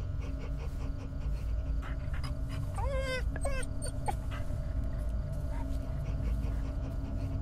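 Dog in the horror video game Fears to Fathom panting steadily, with a run of high whimpers and yips near the middle over a constant low background hum.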